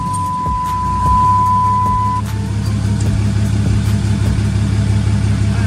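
A car engine turns over and settles into a low, rumbling idle while a steady electronic chime sounds for a couple of seconds and then stops.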